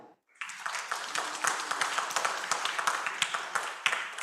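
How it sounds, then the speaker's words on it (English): An audience at an international education, environment and agriculture conference breaks into applause, a sudden start into steady, brisk clapping that fills the room and continues without letup. "I think we need a resounding applause for that."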